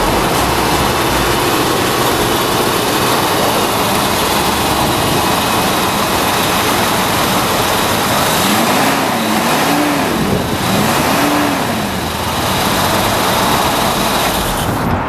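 A 1966 Ford Thunderbird with a rebuilt engine runs loudly and close, a dense steady roar with a few rising and falling revs in the middle, heard alone.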